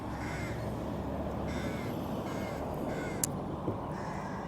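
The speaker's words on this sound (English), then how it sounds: "It's more of jackdaws or crows I can hear." Jackdaws or crows caw in repeated harsh bursts over a steady outdoor background hum at a medieval monastery, several calls spaced across the span at moderate distance.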